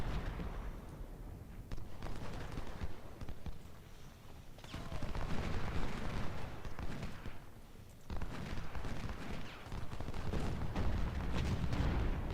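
Artillery guns fire continuously in a Civil War battle at Shiloh, with dense rolling cannon booms and crackling volleys that surge and ebb in waves, loud and sustained without a pause.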